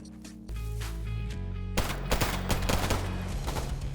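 Loud bursts of gunfire from S.T.A.L.K.E.R. G.A.M.M.A. open up suddenly over a low, droning game soundtrack, with rapid sharp shots rattling close and dense.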